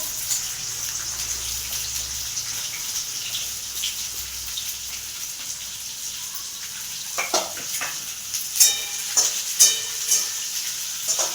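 Onions fry in hot oil with whole spices in a pan for masala gravy, a steady close sizzle that later picks up louder stirring scrapes and crackles.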